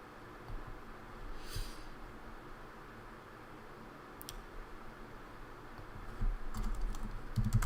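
Steady typing on a computer keyboard while entering a stock trim order, a close run of light clicking keystrokes over a faint room hiss, with a few louder taps near the end.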